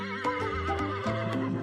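A brown horse on a farm gives a short neigh, brief whinnying bursts set against a steady musical background, fairly close and moderately loud.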